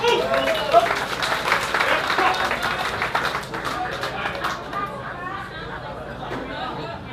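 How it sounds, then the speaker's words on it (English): Applause and cheering from a crowd at a 60th birthday party on a Sydney Harbour cruise, with steady clapping and chatter filling the space, gradually easing off toward the end. "Big round of applause for Greg, folks."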